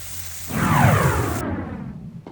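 Butter burgers sizzling on a grill just after being flipped, a sudden burst of loud, broad hissing that swells and then settles into a steadier, softer sizzle.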